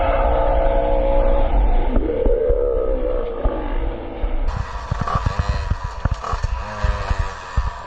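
A BMW car engine roars loud and close at a curve, holding a sustained drone before the revving turns rougher and choppier with rapid bursts in the second half.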